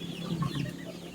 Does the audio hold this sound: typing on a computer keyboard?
no